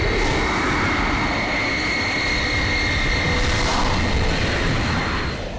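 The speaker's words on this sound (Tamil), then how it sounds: "உன்னோட ஃப்ளைட் ரொம்ப கீழே போயிட்டு இருக்கு." A descending aircraft in a Tamil-dubbed Hollywood action film gives off a steady, loud engine roar with a rushing wind-like wash that continues throughout.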